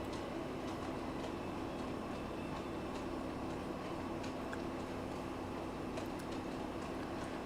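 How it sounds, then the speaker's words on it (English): Model trains run along their track with a faint, steady mechanical rumble and hiss, continuous and even throughout with occasional light clicks, no voices over it. "Daniel says, hey Alex, do your trains sometimes wheel slip?"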